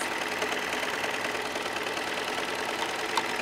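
Sewing machine running steadily while stitching and trimming a blind hem on fabric, a continuous close-up motor whir with a faint rapid needle rhythm, no voices.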